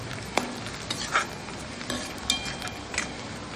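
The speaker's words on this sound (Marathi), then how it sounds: "हे बघा, इथे कांदा चांगला परतला आहे व्यवस्थित." Onion sautéing in a pan for a Konkani jackfruit vegetable dish, a soft continuous sizzle with occasional sharp clinks and scrapes of a spoon stirring against the pan, no talking.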